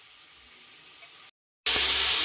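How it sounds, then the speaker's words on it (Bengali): Chicken pieces frying in a pan give a steady broadband sizzle, then a brief silence, followed by a louder, brighter hiss of spitting oil close by. "এ দেখতে পাচ্ছেন আমি ভাজা ভাজা করছি মাংসটা"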